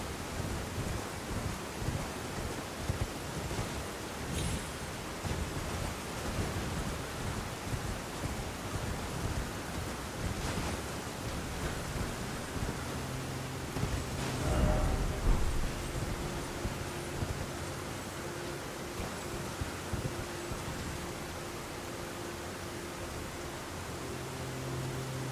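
Steady rain in Elden Ring, a continuous broad hiss with wind-like gusts and a faint low hum, heard on its own without talking.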